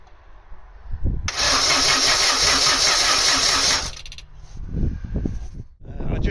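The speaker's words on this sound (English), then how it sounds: "I just tried to crank it again there and it started" A 1.6-litre Vauxhall Astra Mk3 saloon that had stood unused for years cranks loudly for a few seconds and then catches. Uneven thumps and rumbles follow as it starts running.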